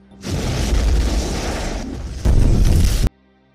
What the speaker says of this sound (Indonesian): dia melihat bom akan meledak